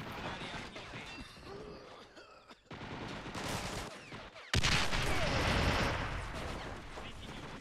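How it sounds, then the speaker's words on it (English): AT grenade blast in the Men of War: Assault Squad video game, a sharp loud explosion cutting in amid rattling gunfire and battle noise, with a voice talking beneath. "Oh, it's an AT grenade."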